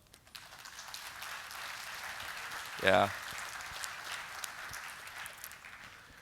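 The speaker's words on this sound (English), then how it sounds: "I think that deserves an applaud." A conference keynote crowd applauds in a soft, distant, sustained patter, with a voice calling out briefly partway through.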